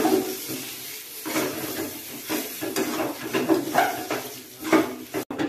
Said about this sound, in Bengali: সব কিছু মিক্স করে নেব।